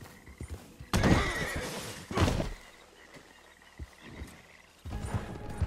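Horse in the video game Red Dead Redemption 2 giving two loud whinnies, with hoof clip-clop and thuds in between, followed by a later burst of commotion, all close and with no speech.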